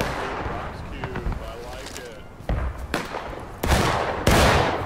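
Musket fire in the Civil War game War of Rights, a few sharp shots spaced apart across the clip, growing louder toward the end over a steady battlefield ambience, with voices talking throughout.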